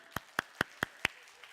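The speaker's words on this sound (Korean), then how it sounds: "박수." A handful of people in a Korean church sermon gathering clap briefly, five sharp, evenly spaced claps close by and fairly quiet, followed by a faint sixth.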